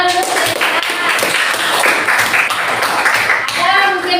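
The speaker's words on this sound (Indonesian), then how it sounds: "Betul, tepuk tangan dulu." A classroom of students clapping hands together in a guidance lesson, loud and close, with uneven overlapping claps and voices mixed in throughout.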